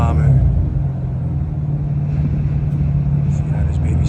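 A car engine idles with its exhaust after a new flex pipe is fitted, a steady deep drone close by while someone talks over it.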